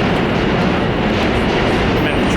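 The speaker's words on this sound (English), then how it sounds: "I'm in the train." A New York City subway train riding along, with a loud, steady rumble and rattle of the cars filling the whole stretch without a break.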